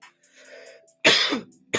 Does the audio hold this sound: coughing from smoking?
yes